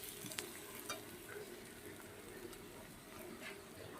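A fish head and taro fry in hot oil in a pan for a Bengali dish, giving a low, steady sizzle with occasional scraping stirs, quiet and without any talk.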